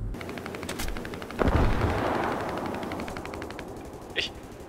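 Rapid machine gun fire in the War Thunder video game, a dense, continuous burst of rattling shots with a heavy thump partway through and one sharp report near the end.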